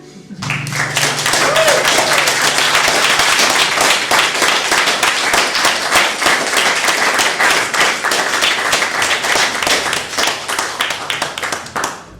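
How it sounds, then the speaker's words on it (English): Dense, sustained audience applause at a folk festival, a crowd clapping loudly and steadily for about twelve seconds with only a brief lower murmur at the start. "Can we just have another round of applause?"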